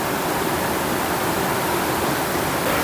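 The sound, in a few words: flowing Godavari river water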